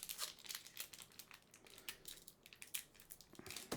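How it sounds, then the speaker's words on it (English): Crinkly plastic trading card pack wrapper being handled and crumpled, close and quiet, in an irregular run of rustling bursts with no talking. "This plastic does not want to open up."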